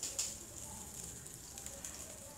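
Finely chopped onion sizzles quietly in hot oil after mustard seeds have popped, a faint steady hiss from a Coimbatore-style arisi paruppu being cooked.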